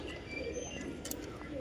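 A female pigeon coos briefly from atop a shelter among racing pigeons, a soft, low rolling call heard close over faint background rustle.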